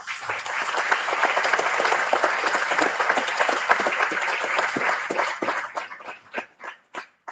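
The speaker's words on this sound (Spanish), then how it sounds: "Así que aplauso para ellos." Sustained applause from an audience at a political gathering in Lanús, steady and dense for several seconds, then breaking into a few scattered, fading claps at the end.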